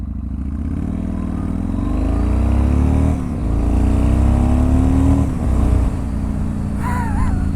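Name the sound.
Yamaha MT01 motorcycle accelerating away from a stop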